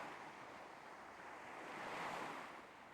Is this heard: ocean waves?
yes